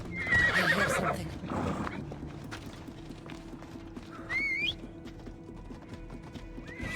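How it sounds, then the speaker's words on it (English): Horse in Assassin's Creed Odyssey whinnying loudly at the start, followed by hooves clip-clopping and further short neighs, with faint game ambience underneath. "You take my horse then. Then everyone has a horse."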